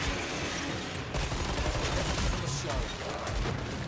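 Sustained automatic AK rifle fire in the video game Killing Floor 3, a loud, dense and continuous chatter of shots with brief breaks, mixed with chaotic combat noise.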